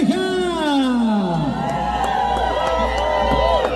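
A crowd cheers and whoops for a couple dancing salsa at a lively party, with loud shouts and sliding voices over a constant low hum, and speech mixed in.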